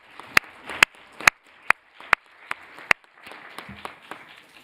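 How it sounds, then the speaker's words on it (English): Scattered applause in a parliamentary assembly session, a handful of sharp distinct claps at a steady pace with a low room murmur underneath, thinning out toward the end. "I think that you deserve an applause from our side"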